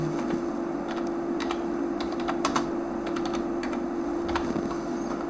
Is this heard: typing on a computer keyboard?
yes